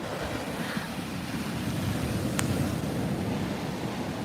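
Ocean waves wash onto a beach on a sunny day as a steady, broad surf roar with some wind noise on the microphone, holding a constant level throughout with no talking.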